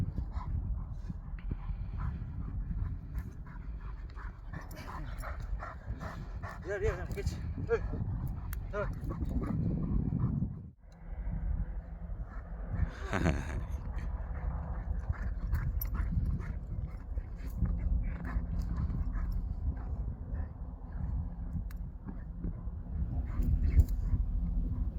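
A playful four-year-old dog sniffs around and whimpers close by, with soft panting and pawing steps, while people talk quietly nearby.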